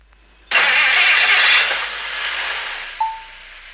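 A 1958-era car engine cranks and catches abruptly, roaring loudly for about a second before settling into a lower running hum, followed by a brief high whine.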